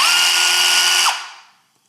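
A Ridgid jigsaw whines loud and steady at its top speed setting, then is switched off and winds down quickly, its pitch dropping as the sound fades to silence within half a second.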